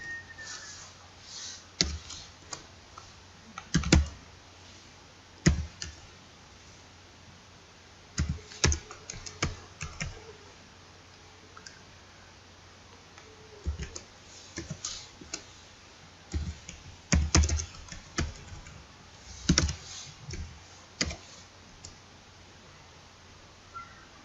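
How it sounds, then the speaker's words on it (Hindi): A computer keyboard is used on a spreadsheet in Microsoft Excel, with scattered single key taps and short bursts of typing and arrow-key presses, close and clear, irregularly spaced over a faint steady hum. "यहाँ पर ये मैं एरो की से जा रहा हूँ, ठीक है। एरो की, आप एरो की से भी जा सकते हैं और टैब की से भी जा सकते हैं।"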